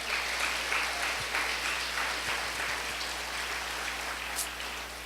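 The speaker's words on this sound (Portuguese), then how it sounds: "Você pode aplaudir ao Senhor, amém?" A church congregation applauds during a sermon, a continuous even patter of many hands clapping, fairly distant and rain-like, holding steady for the whole stretch.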